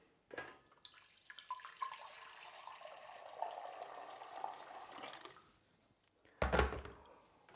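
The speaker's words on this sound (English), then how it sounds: "fill it with warm water" Warm water runs from a tap into a saucepan holding a tin of caramel, a soft, steady splashing flow that stops briefly before a short louder gush and thunk at the end.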